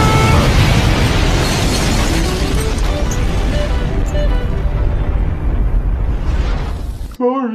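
A cartoon bomb explodes in a loud, sustained blast that fills the first seven seconds, then cuts off abruptly and leaves a brief tonal sound.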